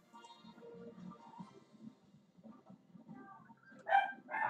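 A dog at home gives a few faint, distant yips and barks with some whimpering, ending in a louder sharp bark near the end, with low background rumble and no talk.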